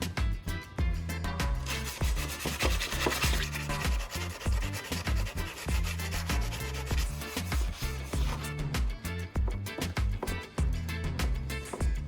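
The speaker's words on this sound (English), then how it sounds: "I will continue using sandpaper to clean the entire surface of the saw blade." Steady, rhythmic rasping of sandpaper rubbed back and forth over a handsaw blade, continuous and close, with no talking.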